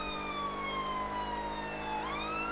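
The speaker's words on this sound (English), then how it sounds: "once we get closer to the location, we'll drop the siren" A police car siren wails steadily in the GTA V video game on a UK police patrol in rural Essex, rising and falling in pitch over a continuous engine hum, loud and up close, with no voices.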